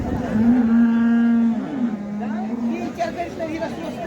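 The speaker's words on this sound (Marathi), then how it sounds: "कडदातावर बैल आहेत." Bullocks at a weekly cattle market in Saleg, a loud drawn-out moo up close, followed by lower grunting calls over murmuring voices of the crowd.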